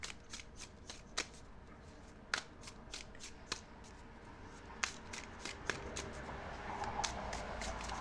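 A deck of tarot cards being shuffled by hand nearby, a quick run of crisp riffling snaps and flicks repeating steadily throughout.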